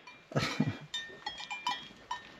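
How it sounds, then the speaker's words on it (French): Livestock near the Meteora in Greece give a couple of brief low calls, followed by scattered light bell clanks at close range. "les vaches qui viennent nous dire au revoir"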